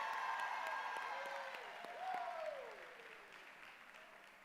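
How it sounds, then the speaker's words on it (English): Applause for award winners at a university awards evening, many hands clapping in a steady patter that fades gradually, heard faintly from a distance. A voice speaks over it at moments. "let's give a huge round of applause for Ellie and Massimo"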